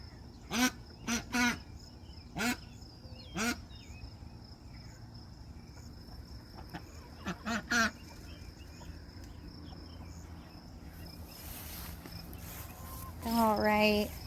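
Ducks in a backyard garden give several short bursts of loud quacking, spaced apart, over a steady background chorus of crickets and insects, with a final cluster of quacks at the end.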